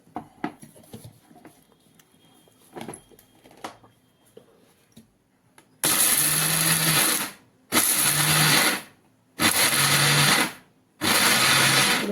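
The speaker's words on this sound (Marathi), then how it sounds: "आता हे घेऊ दुसरं आपण घ्यायचं मिक्सरमध्ये आणि ते काढायचं" A kitchen mixer grinder grinds peanuts for laddoos in four loud bursts of whirring motor, each a second or two long with short pauses between, after quieter clinks and handling knocks.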